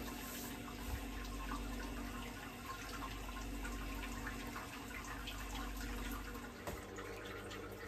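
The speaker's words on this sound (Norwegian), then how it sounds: "det ser ut som det dripper og renner rundt hele her nå, så skal vi få spredd skyllevannet greit." Sparge water from a Grainfather beer brewing system runs and drips steadily over the grain bed, a faint continuous trickle and splash with no talking.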